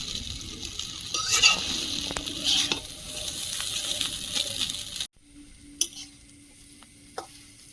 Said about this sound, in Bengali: চাউমিনটা ভালোভাবে ভেজে নিয়েছি এবার চিকেনটা দিয়ে আর একটু ভাজবো